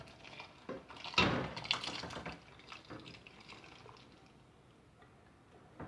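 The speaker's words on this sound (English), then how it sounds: "Now we can add the Rajma with the water." Water and kidney beans splash and pour into a metal pot, with a burst of sloshing and clinking that tapers into a quieter trickle.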